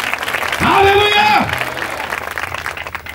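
Church congregation clapping hands at a Christmas service, steady rhythmic claps running under a sustained sung or chanted voice, moderately loud throughout.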